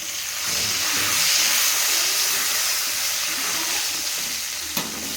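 Curry leaves crackle and sizzle in hot oil while making kadambam, a steady, close, bright frying hiss that swells and fades, with a short sharp pop near the end.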